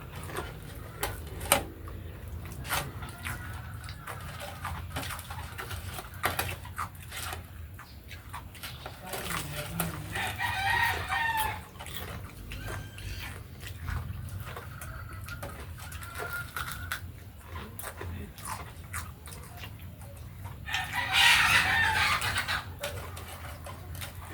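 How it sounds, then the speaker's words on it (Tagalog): Chickens cluck and crow in the distance over a steady outdoor background, with a louder burst of clucking near the end. "Tapos yung mga manok lang talaga yung maiingay."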